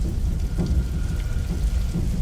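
Steady heavy rain pours down outdoors, a dense continuous hiss with low rumbling underneath, close and fairly loud throughout with no voices.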